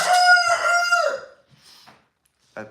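A rooster gives one loud, close, drawn-out crow, followed by faint quiet sounds and a short sharp noise at the end.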